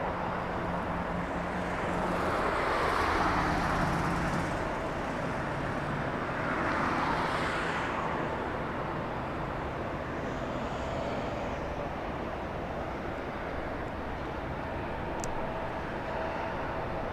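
Delta airliner arriving from Atlanta at LAX, a broad jet roar swelling and fading twice over steady distant traffic rumble, fairly close and continuous.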